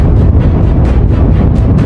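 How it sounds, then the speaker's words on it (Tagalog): Strong wind from Typhoon Ulysses buffets the microphone in a loud, continuous low roar with rapid gusting flutter, close and overwhelming, with no talking. "Sobrang lakas ng ating hangin. Strong headwinds."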